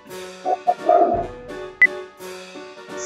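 A dog gives several short barks and yips in quick bursts, close and fairly loud, with brief pauses between them and no talking.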